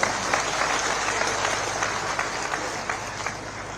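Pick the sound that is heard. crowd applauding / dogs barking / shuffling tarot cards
crowd applauding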